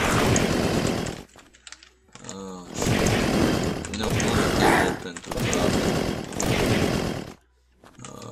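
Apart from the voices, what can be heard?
chainsaw in the video game Unturned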